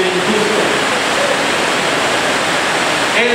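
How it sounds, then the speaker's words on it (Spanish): Heavy rain pours in a loud, dense, unbroken hiss that fills the whole stretch, with a faint voice barely surfacing near the end. "Gracias, Señor, por la lluvia."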